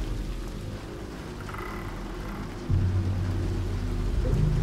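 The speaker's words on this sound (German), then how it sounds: "Außerdem regnet es doch." Steady rain falls in the stealth video game Dishonored, a dense continuous hiss with low rumbling beneath, growing slightly louder midway as a deeper drone joins in.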